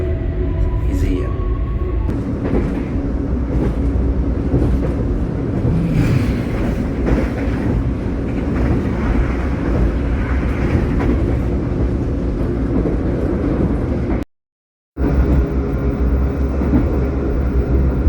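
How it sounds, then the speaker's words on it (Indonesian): The extra GMR YK train (Gambir–Yogyakarta) runs on after leaving Haurgelis station, with a steady, loud cabin rumble and wheel noise continuing throughout, broken by a brief silent dropout near the end. "Dan ini keretanya udah berangkat dari stasiun Haurgelis."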